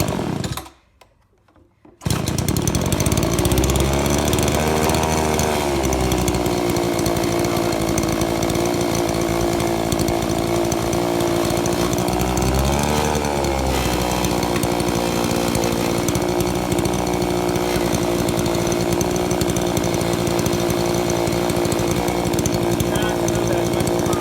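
A 25cc weedeater engine spins a propeller after a short quiet gap, droning loud and steady with a throaty, buzzing tone that dips and swells slightly in pitch twice.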